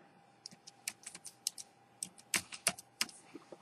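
Rapid irregular keystrokes on an iGo Stowaway Think Outside XTBT01 Bluetooth folding keyboard, crisp close clicks with brief pauses, ending in a cluster of heavier presses, with no talk.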